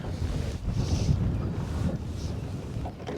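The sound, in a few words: wind outdoors while fishing from a boat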